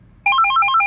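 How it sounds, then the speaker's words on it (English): Avaya 9620 desk phone ringtone, loud and close: a rapid repeating electronic warble of alternating high beeps in a steady pattern, starting abruptly and continuing alone. "That one seems like the old VTech cordless phone ringtone."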